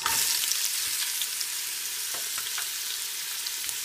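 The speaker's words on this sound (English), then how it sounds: "my oil is ready, so we go put like the onions" Chopped onions fry in hot coconut oil in a pan, a steady close sizzle and crackle that starts loud and settles into a softer continuous hiss with scattered pops.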